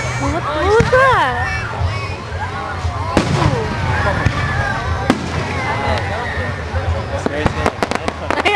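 Fireworks at a park show burst overhead in a loud, continuous barrage of booms, crackles and sharp pops, with whistling rockets rising and a crowd talking and exclaiming throughout.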